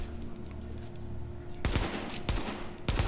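Automatic AK rifle fire in the video game The Division, heard as two short bursts of rapid shots over a steady background hum.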